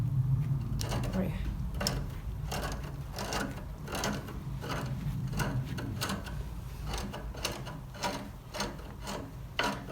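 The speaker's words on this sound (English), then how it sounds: "The noise you can hear is the spring that's in the handle." Spring in the handle of a 1970 Bolens 1253 garden tractor's attachment lift, giving a repeated raspy creaking scrape in a steady rhythm, close and fairly quiet under low mechanical rumble.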